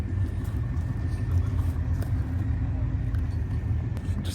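A Porsche 911 Turbo accelerating down a quarter-mile run, a heavy continuous low engine and road rumble heard from inside the car, steady and loud throughout.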